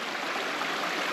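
A small creek runs beside a forest trail at Kempt Falls in Ristigouche Sud-Est, Quebec, giving a steady, close, broadband rush of flowing water with no pauses.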